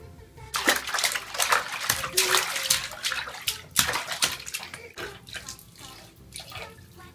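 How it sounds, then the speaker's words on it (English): A small child splashes water in a big bathtub, bursts of loud splashing and sloshing in irregular rhythm that ease off toward the end, with soft voices now and then. "is this your first bath in the big boy bathtub?"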